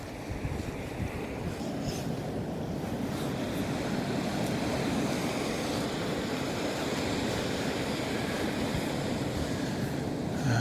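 Sea swell at Filey Brigg rocks surges and washes in a continuous loud roar of surf, with gusty wind buffeting the microphone and no voices.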